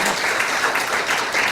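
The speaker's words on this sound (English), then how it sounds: "So give him another round of applause." A crowd at an alumni party gives a bartender a steady round of applause, dense clapping filling the short moment without talk.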